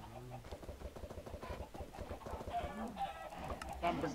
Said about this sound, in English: I end up spawning chickens outside the house.